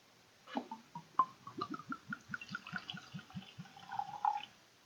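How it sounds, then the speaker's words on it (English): Jim Beam Repeal Batch bourbon poured from a twist-off bottle into a glass, a steady run of close, soft glugs and trickles lasting several seconds in a quiet room. "Pouring a healthy dose for the holiday."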